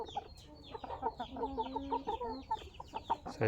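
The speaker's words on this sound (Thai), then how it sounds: "วันนี้พามาชมไก่รุ่นๆนะครับ" Young chickens aged four to five months, a group of two males and two females, cluck and call continuously at close range, with short overlapping clucks and a few drawn-out tonal calls and no talking.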